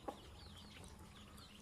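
Backyard farm chickens give a single faint cluck at the start, then only a quiet ambient hush with soft distant bird-like chirps in the background.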